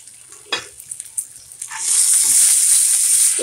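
Prawns dropped into a pan with reddish-browned onions burst into loud, steady sizzling after a few stirring clacks, the frying hiss swelling and holding close up.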